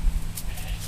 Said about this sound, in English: that's the sound of a sheep trying to get fresh with me